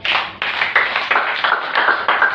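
A church congregation claps for Jesus in a steady, even rhythm of sharp hand claps, full and close, with no talking over it.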